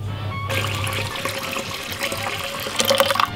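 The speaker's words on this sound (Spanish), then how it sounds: "y echamos el agua." Water pours steadily from a tap or jug into a bowl of roscón de Reyes dough mixture with sugar, eggs, salt, dark rum and orange blossom water, a continuous splashing hiss that briefly gurgles near the end.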